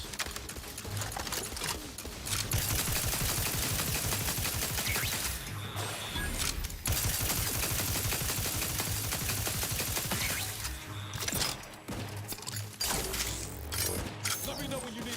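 Gun turrets fire in a video game, with dense rapid bursts of shots and crashing impacts over about fifteen seconds, broken by brief pauses.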